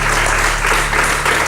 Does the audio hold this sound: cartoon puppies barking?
no